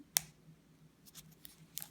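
Palm leaf strands from Palm Sunday being pulled and split in half, a sharp tearing snap at the start followed by softer rustles and small crackles, close and quiet.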